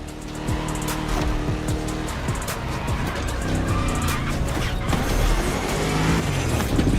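Muscle car from the golden-age 60s to early 70s era in The Crew Motorfest racing game, engine running continuously with a steady loud drone and repeated tire squeals and skids throughout, no talk.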